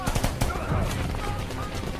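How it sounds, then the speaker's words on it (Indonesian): Rapid bursts of gunfire crackle through a noisy scene in the film Ninja Assassin, overlapping shots blending with shouting voices in a dense, chaotic din. "Situasi di halaman padepokan masih bising dengan suara tembakan."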